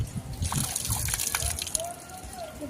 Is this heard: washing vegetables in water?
yes